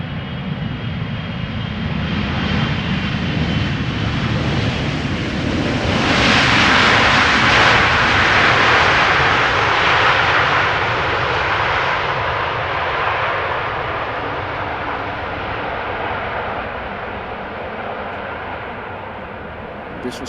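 A KLM airliner at Amsterdam Schiphol Airport roars past as a loud broad jet engine rush that swells to a peak and slowly fades as the aircraft moves away.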